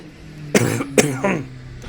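Three rough coughs in quick succession, close and loud, the last one trailing off with a throaty rasp.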